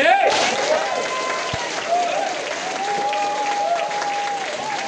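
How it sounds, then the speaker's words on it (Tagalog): An audience in the Philippines claps loudly and steadily at a public service event as government partner agencies are thanked. Faint tonal sounds ride underneath the sustained ovation. "Pwede bang lakasan yung palakpak ninyo sa PGAs?"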